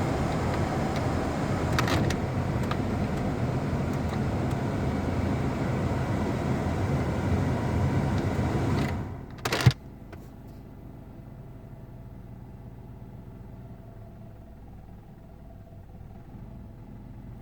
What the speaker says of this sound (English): So it keeps almost stalling out. Sometimes it's got a high idle, sometimes it's got a low idle.